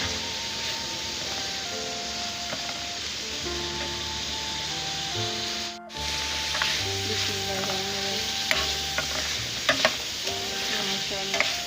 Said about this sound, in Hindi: बहुत मज़ेदार फ्राई हो रही है